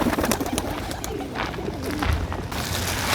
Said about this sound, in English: Hello, pigeons.